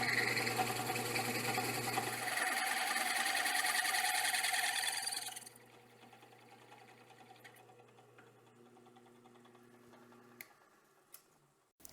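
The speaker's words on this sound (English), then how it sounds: "I'm going to drill a hole in that so I can put another port on the side of it for the return." Power drill boring a hole into a PC water cooling reservoir, a loud steady whine for about five seconds that cuts off, followed by quiet handling noises and a couple of sharp clicks.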